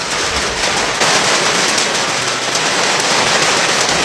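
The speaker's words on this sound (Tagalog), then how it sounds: "Umuulan naman ngayon." Rain falling steadily outdoors, a dense continuous hiss of drops with no pauses, loud and close throughout.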